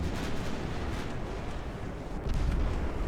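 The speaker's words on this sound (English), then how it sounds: "Gunfire from the light cruisers basically just bouncing off." Light cruiser gunfire in the naval video game World of Warships, dense overlapping low booms and rumbling blasts in a continuous barrage, loud and close, with a heavier burst near the end.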